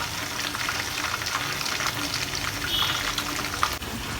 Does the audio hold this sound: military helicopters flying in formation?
no